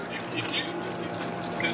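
Water streams from the outlet of an air-to-water generator into a tank, a steady close trickling splash that continues without a break.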